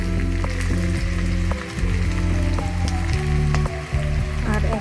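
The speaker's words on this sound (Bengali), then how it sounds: "আর একটু পেঁয়াজটা ভাজবো, তারপরে মাংসটা দিয়ে দেবো।" Onions frying in a pan for chicken kosha, a dense, steady sizzle with crackling pops, close and fairly loud, with faint clinks and no talking.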